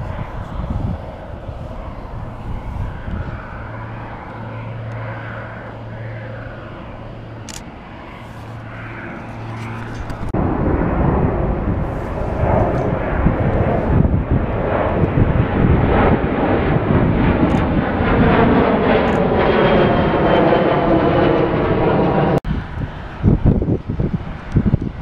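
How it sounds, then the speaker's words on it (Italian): Two airliners depart from Kansai International Airport in Osaka, a low jet engine roar swelling after about ten seconds into a loud, sustained rush with wind buffeting the microphone. "Due aerei stanno per partire."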